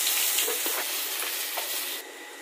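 Onions sauté in oil in a pan, giving a dense, even sizzle with soft stirring taps. It is close and continuous with no voices, and it eases slightly toward the end.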